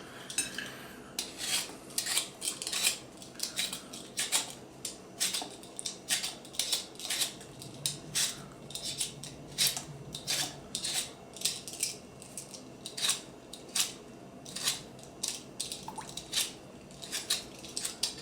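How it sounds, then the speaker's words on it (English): Firm Bosc pears are peeled by hand, giving a steady series of quiet, close scraping strokes with wet slicing clicks, repeating roughly every second. "But first we're going to need to peel them."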